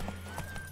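Horse hooves clip-clop in The Witcher 3, a few soft, evenly spaced hoof beats over a steady low hum.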